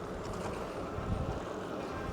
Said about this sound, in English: Can you feel the tires? Can you hear them here?